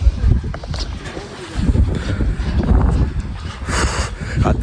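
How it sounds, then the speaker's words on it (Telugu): Strong wind from a dust storm sweeps across desert hills, a heavy low rumble of gusts buffeting the microphone up close, rising and falling without pause. "మొత్తం గాలి దుమారం చూడండి ఇక్కడ."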